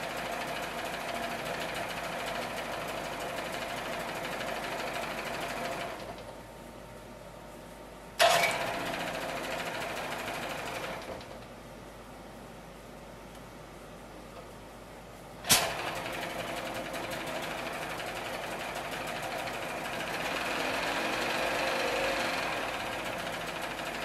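A 1979 Evinrude 35 hp outboard motor runs steadily at close range, its engine note dropping and rising in pitch with two sharp clanks marking throttle or choke changes, and no talk over it.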